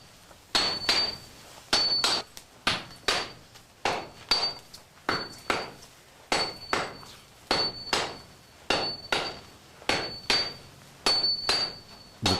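A forged steel katana blank is hammered into shape in a forge, with sharp metallic strikes ringing close and loud in a steady rhythm of about one to two blows per second, each trailing a short ringing decay.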